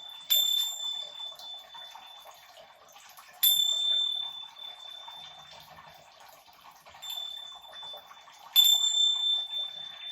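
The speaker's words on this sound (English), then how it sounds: "So what you do with the cleansing bells, you hold them around the body in the aura" Small bells are struck a few times at uneven intervals, and each bright metallic chime rings out and slowly fades over a faint background hiss.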